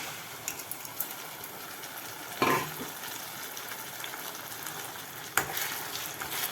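Tomato and ginger paste poured onto sautéed onions in a pan, steady frying sizzle with a couple of sharp splashes as the paste hits, no talk.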